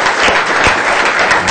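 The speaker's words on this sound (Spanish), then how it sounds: "Desde aquí el aplauso para Venezuela" Dense, loud applause fills a television studio at the opening of a Venezuelan presidential broadcast, a steady wash of many hands with no pauses.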